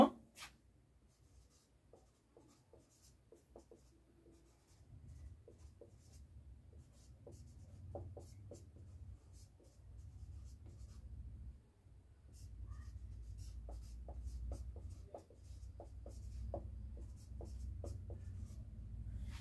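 A pen scratches steadily across paper while an answer is written out by hand, soft strokes and taps continuing alone, growing a little fuller partway through.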